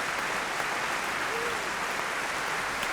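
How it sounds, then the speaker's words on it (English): Audience applause at a motorsport awards ceremony fills the room as a steady, dense wash of clapping that holds at an even level throughout. "Andre Lotterer, you better be clapping for that one"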